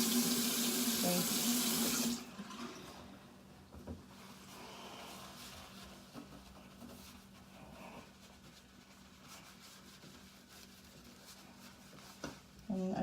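A sink faucet runs with a strong steady gush for about two seconds during sink cleaning, then shuts off, leaving quiet rustling and faint handling sounds.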